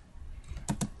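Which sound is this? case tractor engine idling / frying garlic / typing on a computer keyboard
typing on a computer keyboard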